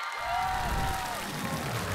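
A studio audience applauds to welcome a singer onto a variety-show stage. Dense, even clapping carries throughout, with a faint sustained tone gliding briefly above the crowd.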